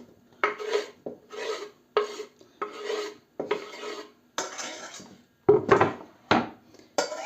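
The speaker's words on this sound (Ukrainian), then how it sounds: "Нарізане м'ясо ми висипаємо тут у мельничку. Я собі ріхтую у мельниці, аби добре розмішати" Chopped meat ground in a hand-cranked meat grinder for a mayonnaise salad gives a rhythmic series of about eight rasping, grinding strokes, close and fairly loud, with brief pauses between turns and no talk.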